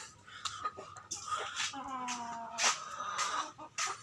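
Tiger chickens clucking on a farm in Chittagong, a run of short close calls and warbling notes with a voice talking over part of it.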